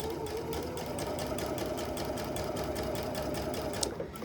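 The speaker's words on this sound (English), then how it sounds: "And I'm just going to begin sewing." A sewing machine stitches fabric piping. Its rapid, even mechanical clatter runs steadily and close throughout, with a soft motor hum underneath and no talking.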